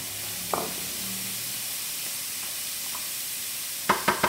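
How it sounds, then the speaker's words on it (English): Onion frying in a skillet for penne carbonara gives a soft, steady sizzle, with a brief stir early on and a few sharp clacks of a utensil at the end. "now we're going to add our onion back in."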